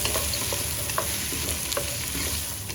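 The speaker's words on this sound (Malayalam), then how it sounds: "ഇപ്പോൾ വെജിറ്റബിൾ ഇട്ടതിന് ശേഷം നമ്മൾ ഹൈ ഫ്ലെയിമിൽ വെച്ചിട്ട് വേണം വഴറ്റാൻ." Carrots, potatoes, green peas and corn with salt are sautéed on high flame for a one-pot vegetable pulao: a constant close sizzle with repeated light spatula clinks and scrapes.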